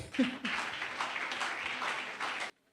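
A church congregation claps and applauds in a brief, steady burst that stops abruptly after a couple of seconds.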